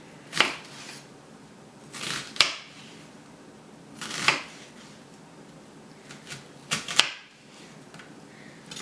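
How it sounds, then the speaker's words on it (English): A kitchen knife cuts through an onion, giving about half a dozen crisp, sharp strikes at uneven intervals, close and fairly loud against a quiet background. "You're cutting an onion, not your fingers."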